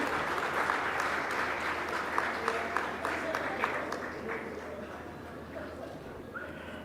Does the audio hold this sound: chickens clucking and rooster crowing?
no